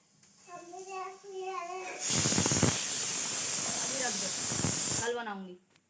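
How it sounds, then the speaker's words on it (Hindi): A pressure cooker whistle on a gas stove in a home kitchen lets out a loud, steady hiss of steam for about three seconds, with voices talking just before and after it. "सब्जी बन गई है, मतलब सीटी आ रही है हमारी कुकर में।"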